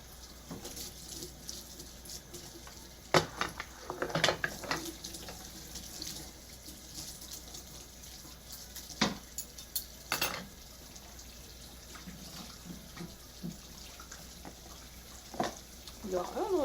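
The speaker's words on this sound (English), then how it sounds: "you can still see me do the dishes" Dishes are washed by hand at a kitchen sink with running water, a soft continuous trickle of the tap under scattered clinks and clatters of plates and utensils, several louder knocks standing out, fairly close.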